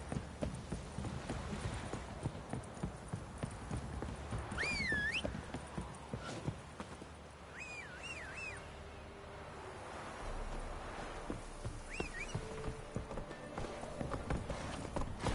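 Geralt's horse Roach in The Witcher 3 trots with a steady clip-clop of hooves. Wind and distant surf sit under the hoofbeats, and a few short whistling calls cut in above them.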